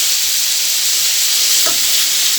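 Chicken cubes fry in a very hot pan as filling for crepes, a steady loud sizzle with a brief sharper hiss partway through and no voices.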